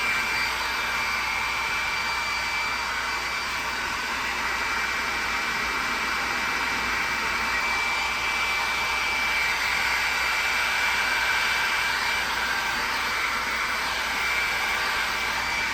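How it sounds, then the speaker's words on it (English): A hair dryer blows continuously at close range on a guitar's binding tape, a steady loud whooshing hiss with a faint high whine, unchanging throughout. "I'm gonna hit it with a little hair dryer."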